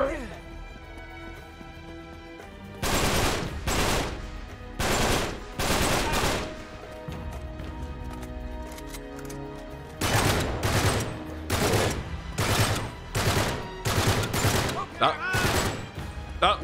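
Uncharted 3 video game gunfire comes in repeated loud bursts of rapid shots with short gaps between them, set against a steady game soundtrack, with voices talking in between.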